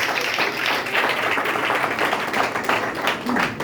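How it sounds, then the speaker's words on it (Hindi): A church congregation at a Good Friday meeting claps loudly and continuously, a dense steady wash of many hands filling the room without pause for the whole stretch. "रूहुल कुद्दस के लिए जोरदार तालियां बजाएंगे"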